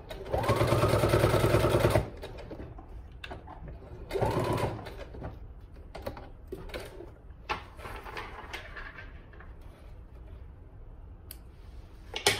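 A sewing machine stitches fabric for a small market bag in a steady, loud whirring burst, pauses, then runs again briefly, followed by scattered clicks and handling sounds.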